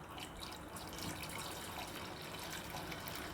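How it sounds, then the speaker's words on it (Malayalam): Water from cooked beans (payar) is strained off into a separate vessel, a steady pouring and trickling wash running continuously at close range without any talk. "പയറിൽ നിന്നുള്ള വെള്ളം നമുക്ക് സെപ്പറേറ്റ് ഊറ്റിയെടുക്കാം"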